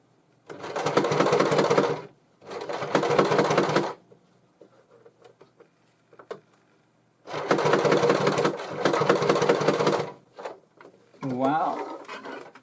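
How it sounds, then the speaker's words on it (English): Twin-needle sewing machine stitching through several layers of heavy material, running in two loud, steady bursts of rapid mechanical chatter with a pause between, and a person speaking briefly near the end. "it's making a bit of sound with that one because I'm going through several layers"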